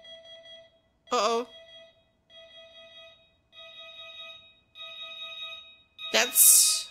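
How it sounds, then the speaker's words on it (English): An alarm clock in the video game Fall or Porcupine sounds in a series of short steady electronic tones repeating at intervals, broken by two brief louder vocal bursts. "That's my alarm."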